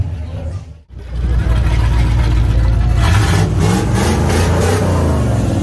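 A vintage car's engine roars steadily and loudly at a classic car meet in Sorocaba, Brazil, after a brief dip near the start, sustained revving with a rough, throaty low rumble close by.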